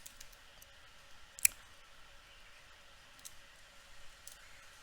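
Computer mouse clicks at a desk, one sharp click standing out amid a few fainter clicks over quiet room tone.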